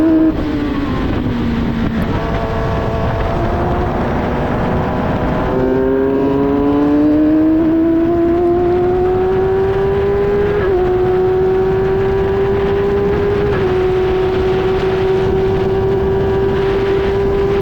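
An F1000 single-seater race car heard from onboard at Silverstone, its engine roaring loud and continuous, with pitch climbing through gears and shifting in steps as the car accelerates, no voices.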